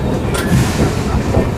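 The Jan Shatabdi Express rolls by as a loud, steady rumble of rail noise with no voices.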